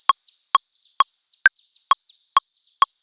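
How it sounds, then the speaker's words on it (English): Seven sharp, evenly spaced electronic zaps with bright high chirps trailing between them, a repeating synthetic laser-like pattern in a beat, no voices. "digital laser sound, those tweets that I'm talking about"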